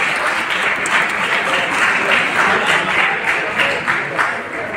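An audience applauds at the award distribution of the Government Art College's 159th Annual Exhibition, with dense, steady clapping that swells and holds throughout, loud and close.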